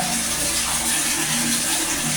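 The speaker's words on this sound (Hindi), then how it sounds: "अपना ये पानी भर रहे हैं। देखिए पानी चल रहा है ये" Tap water runs steadily, filling a bath, a loud continuous broadband rush with no pauses and no voices.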